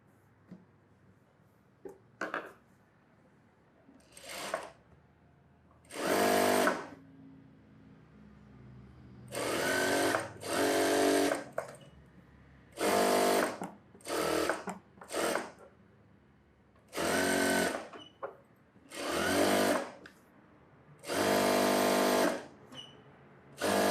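An electric sewing machine stitches around the edge of a blouse, its motor whirring in a series of short, close bursts separated by brief pauses, with no talking.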